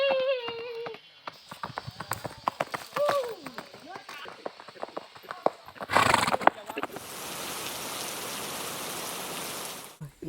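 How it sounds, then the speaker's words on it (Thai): A horse ridden bareback on a farm whinnies near the start, then clip-clopping hooves and snorts follow amid people talking and laughing, before a burst of rain-like hiss takes over. "ไอปอมันขี่ม้าแบร์แบ็กเลยนะเว้ย"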